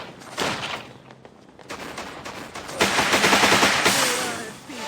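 Gunfire from Narancha, a shooting-type character in the JoJo's Bizarre Adventure Last Survivor game, with rapid bursts of shots that stop briefly and then build to a louder, denser barrage near the end.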